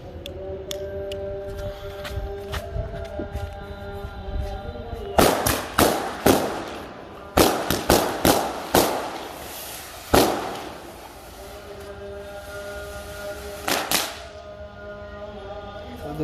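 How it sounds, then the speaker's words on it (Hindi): A Standard Fireworks Red Fort 24 Deluxe firecracker string explodes during Diwali testing: a fizzing fuse, then rapid loud cracking bursts in clusters with pauses between, crackles echoing outdoors. "अब हम लोग जलाने वाले हैं स्टैंडर्ड फायरवर्क्स का रेड फोर्ट 24 डीलक्स बड़ा वाला चटाई"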